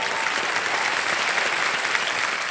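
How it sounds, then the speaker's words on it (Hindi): Studio audience on a televised quiz show applauding steadily to welcome a contestant, a dense even wash of clapping that stays loud from start to finish. "तालियों के साथ इनका जरा स्वागत हो गया।"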